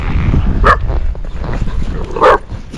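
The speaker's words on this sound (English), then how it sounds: "there's little puppies up here in this cage." Small puppies in a cage give two short, sharp barks or yips about a second and a half apart, close by, heard over the steady rumble of an outdoor setting while a horse is being ridden.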